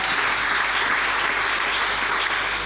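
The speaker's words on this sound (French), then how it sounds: "est-ce qu'on peut acclamer le Seigneur" A church congregation applauds the Lord in steady, sustained clapping that fills the room loud and unbroken throughout, with no one talking over it.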